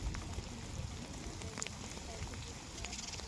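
Dense, steady patter of rain falling on a surface in a village, close and continuous, with faint background rumble and no clear voices.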